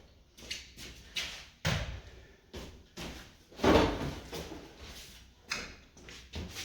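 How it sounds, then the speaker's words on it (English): An IKEA cabinet drawer slid in and out and pushed shut, with a series of wooden sliding rumbles and several solid thumps of it closing, close by and without talking. "And we can try the drawer."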